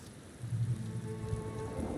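Stormy weather in The Elder Scrolls Online's High Isle, with a steady wash of rain and a low, rolling rumble of thunder swelling underneath, continuous and moderately loud with no talking.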